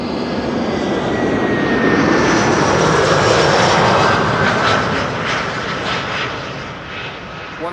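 An Iberia jet airliner arriving from Madrid roars in to land at Amsterdam Schiphol, its loud engine noise swelling to a peak and then easing off as it passes.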